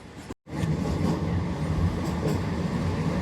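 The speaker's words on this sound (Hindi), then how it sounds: "green line express Lakhpat station approach करते हुए" Green Line Express passenger train approaching Lakhpat station, heard from on board as a loud, steady rumble and clatter of the railcars, with a brief cut near the start.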